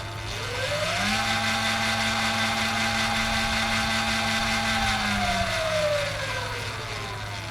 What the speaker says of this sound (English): I'm just going to hit the throttle real quick, make sure it's nothing's falling out.